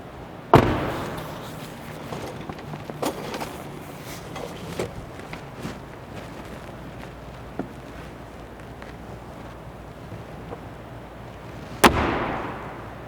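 A 2014 Ferrari F12 Berlinetta passenger door shuts with a single loud, solid thump early on, followed by quiet handling noises and a second sharp slam near the end.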